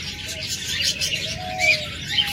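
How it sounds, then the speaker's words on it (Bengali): Big, half-tame female ring-necked dove of Holland bloodline with red eyes gives soft, low cooing notes, with faint bird chirps nearby and no talk. "হল্যান্ড ব্লাড লাইনের রিং নেক পাখি, ফিমেল পাখি"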